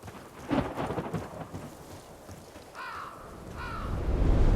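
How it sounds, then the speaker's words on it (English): Deep thunder from a surge storm in the video game SYNCED rumbles and swells under steady rain, with a few sharper mid-range calls near the end as the low rumble builds louder. "that's a hell of a surge storm"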